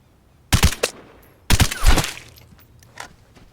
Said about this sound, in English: 3 shots from that range with an SVU is death